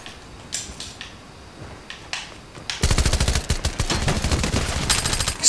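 Gunfire in Fortnite: a few scattered distant shots and clicks, then a loud, sustained rapid burst of automatic fire close by that runs to the end.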